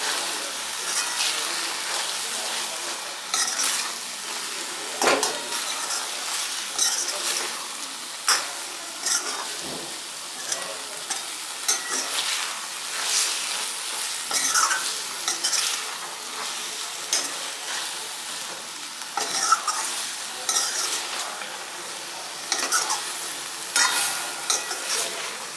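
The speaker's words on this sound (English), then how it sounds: "Let's stir this." Brinjal gravy with coriander leaves is stirred in a pan, a steady sizzle with scraping spoon strokes running throughout, loud and close, with no talk.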